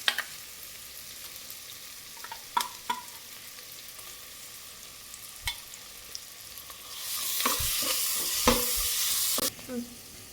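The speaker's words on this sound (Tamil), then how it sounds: "இப்போ வந்து இஞ்சி பூண்டு பேஸ்ட்டு உள்ளே போட போகிறேன்" Ginger garlic paste fries in oil for mutton biryani, a faint sizzle broken by scattered stirring clicks, growing to a louder, brighter hiss in the final few seconds.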